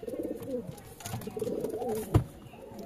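Domestic pigeons cooing in a low, throaty run beneath steady background noise, with one sharp thump partway through.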